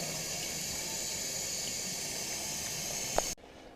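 Warm water, about 110 degrees, pours in a continuous steady hiss and rush, close by, then stops abruptly near the end with a small clunk.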